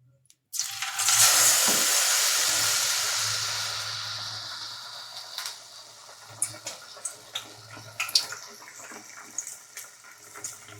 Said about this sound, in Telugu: ఆ ఆయిల్లో వేస్తుండాలి.